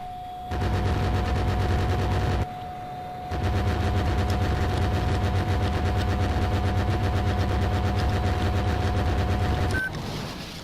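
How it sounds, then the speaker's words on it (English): Jet fighter guns fire in the arcade-style flight game Vector Thrust as a loud, continuous machine-gun roar that runs in long sustained bursts with a brief pause, over a steady electronic tone. "this is a sub-weapon only, meaning I can only use my guns here"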